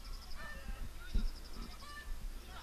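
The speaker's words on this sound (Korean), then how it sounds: "중계를 하다 보면은 또 근처에서 닭 울음소리까지 들리는데요." Rooster near a football pitch during a high school match, a faint, distant honking call under low ambient field noise, with quiet background voices.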